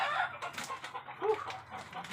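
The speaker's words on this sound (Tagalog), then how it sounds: "Umaga na, maingay na yung mga manok." Chickens cluck and a rooster crows in the morning at a moderate distance, busy and overlapping, with a faint outdoor background.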